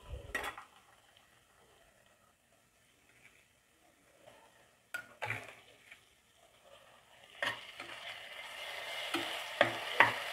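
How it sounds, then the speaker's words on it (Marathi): Washed rice fries in mutton masala for mutton alni bhat, stirred with scattered metal scrapes and clinks over a quiet sizzle that grows louder and denser in the last few seconds. "आपण याच्यामध्ये मस्त फ्राय करून घेऊ आपण घेतलेला तांदूळ"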